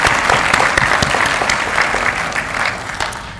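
A round of applause from the audience at a white coat ceremony for student pharmacists, honoring a Walgreens representative and MPA; loud, dense, steady clapping fills the whole stretch, fading slightly toward the end.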